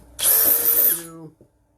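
A power drill bores a hole for a speaker in an Arcade1Up control board on a kitchen step workbench: one loud, close whine of about a second that winds down and stops.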